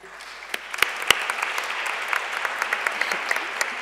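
An audience at a talk on early diagnosis of rare diseases claps, a moderate, fairly distant spread of applause with a few sharper individual claps standing out.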